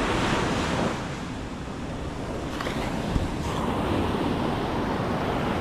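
Big ocean waves at night high tide after a typhoon at a river mouth, surging among beached boats; a steady, loud roaring wash with heavy wind rumble on the microphone throughout.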